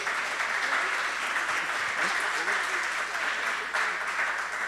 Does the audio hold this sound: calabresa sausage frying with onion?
no